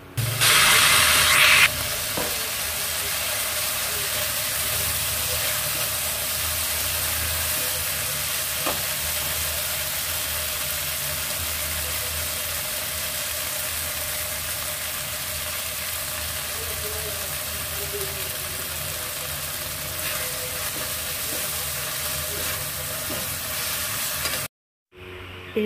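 Soy, green chili and tomato sauces hit a hot pan for soya chilli, giving a dense, steady sizzle and hiss with occasional stirring, close and loud, ending in a brief cut to silence.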